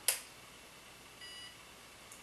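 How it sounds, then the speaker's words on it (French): A single short, high electronic beep from a baby monitor powering on at the start, followed by near silence. "Donc le petit bip indique que ok c'est bon, il a bien compris que c'était allumé."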